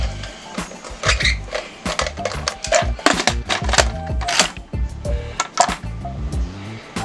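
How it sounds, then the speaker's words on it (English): A metal lid is fitted onto a pressure cooker, a close series of sharp clanks, clicks and rattles in irregular bursts, with quieter handling noises between. "So let me go ahead and put the lid on."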